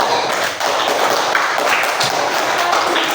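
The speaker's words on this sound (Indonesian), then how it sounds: "Oke, tepuk tangan untuk kelompok 3." A classroom of students applauds group 3 after their presentation. The clapping is dense, loud and even, with a brief dip early on.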